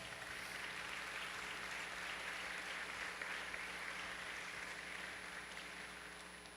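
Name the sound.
audience applause at enlistee recognition gala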